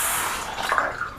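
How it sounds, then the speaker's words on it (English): Water poured into a bowl of shaving soap, a short close splashing trickle with no talking. "I'm going to add just a little bit more water and a little bit more soap"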